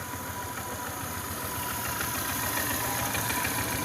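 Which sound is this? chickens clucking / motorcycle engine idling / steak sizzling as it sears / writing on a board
motorcycle engine idling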